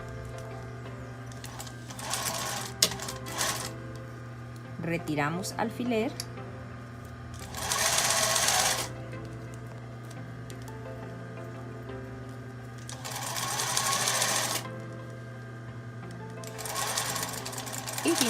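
A sewing machine stitching a seam on a basic straight skirt from the top of the zipper, running in several bursts of a few seconds each over a steady hum, with someone speaking between the runs.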